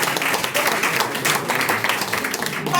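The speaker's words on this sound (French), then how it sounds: "applaudissez pour les deux" Audience applause at a company open day gathering in Togo, steady dense clapping from a room of people, loud and close, sustained without pause.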